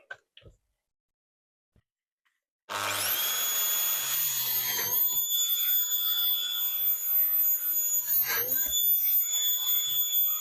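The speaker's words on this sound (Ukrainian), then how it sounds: "Ставлю на глибину 1 і засверлюю." A power drill, set to a depth stop, bores holes into a furniture false panel. After a few quiet clicks it starts abruptly and runs as a loud, steady, high whine to the end.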